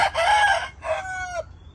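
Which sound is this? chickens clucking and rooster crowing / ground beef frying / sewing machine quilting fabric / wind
chickens clucking and rooster crowing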